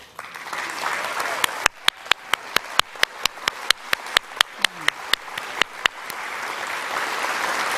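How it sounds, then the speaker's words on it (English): Audience applauding award nominees at the 2022 Northern Territory Australian of the Year Awards, a continuous crowd clap underneath a series of sharp, rhythmic, evenly spaced loud claps, then general applause resumes. "so that we can see you and give you a round of applause"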